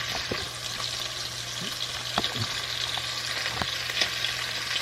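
Sausages sizzle and fry in olive oil in a pan, a steady close crackle with occasional stirring taps, heard without talk.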